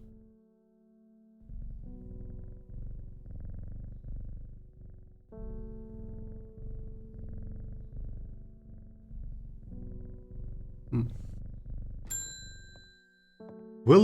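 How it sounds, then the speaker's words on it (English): A cat purrs steadily and close by in long rhythmic cycles, with a game's soft ambient tones and a few bright chimes and dings near the end, no talking. "Can you guys hear the purr?"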